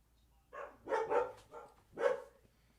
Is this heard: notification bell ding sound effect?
no